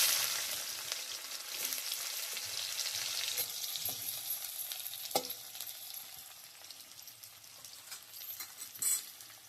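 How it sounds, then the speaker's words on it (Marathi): Chopped onion frying and being stirred in a pan, a steady close sizzle with scraping and clinking stirs and occasional louder spits, no voices over it. "आता आपला कांदा भाजून घ्यायचा आहे"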